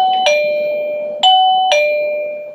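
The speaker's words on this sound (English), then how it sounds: "It makes a little doorbell sound." A dog potty doorbell's button chime rings three times in a house, each a clear two-tone electronic ding with a lingering sustain, loud and close with no talking.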